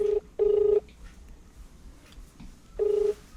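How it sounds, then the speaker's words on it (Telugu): Outgoing phone call ringback tone, two short electronic ring pulses heard clearly about two seconds apart over a quiet room background. "రింగ్ అవుతుంది."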